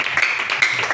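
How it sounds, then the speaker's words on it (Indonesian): Brief, lively applause from a congregation at a prayer fellowship meeting, a close burst of many hands clapping with faint voices in the background. "Tepuk tangan untuk Tuhan kita."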